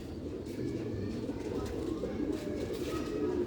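Pigeons coo in a low, murmuring chorus close by, a continuous soft throaty burble with no pauses.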